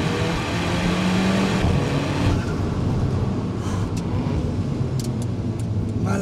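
An Alfa Romeo 4C sports car with a carbon-fibre monocoque chassis, weighing about 950 kg, cornering hard. Its engine gives a steady, loud, broadband roar throughout, with brief higher tonal whines near the end.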